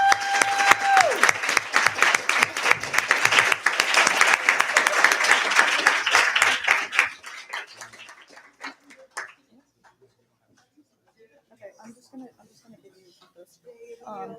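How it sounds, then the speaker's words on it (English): A student government senate room breaks into dense applause with scattered cheers to welcome new senators, lasting about seven seconds before thinning into a few claps and near silence. "We welcome them in with a round of applause."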